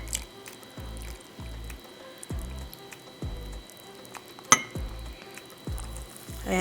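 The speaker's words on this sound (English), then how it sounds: "here I have warm milk, and I'm just gonna pour it right on top." Warm milk pours over a hot chocolate bomb sitting in a mug, making a steady run of soft, low glugging splashes at a regular pace, close and fairly quiet, with one sharp clink partway through and no voices.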